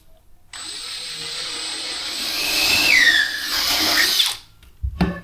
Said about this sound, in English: And for that pivot door, we're going to do the same thing. Come up 32 mil, and we'll drill that one as well.